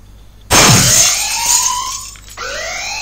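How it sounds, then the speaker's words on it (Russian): A sudden loud burst gives way to wailing electronic alarm tones that sweep and repeat, with no voices, in the video game Fleeing the Complex. "еще и подняли сигнализацию."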